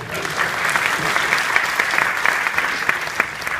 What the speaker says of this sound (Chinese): 所以她也帮我们鼓掌一下。